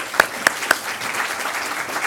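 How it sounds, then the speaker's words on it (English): Audience applause for a visiting minister at a university event: a few sharp, loud claps stand out at first, then a steady wash of clapping continues through the rest. "We have an applause for him."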